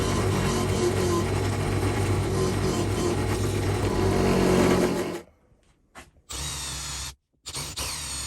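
A power drill runs continuously while cutting wooden plugs, a loud steady whine for about five seconds, then stops abruptly and gives two short bursts with silent gaps between them.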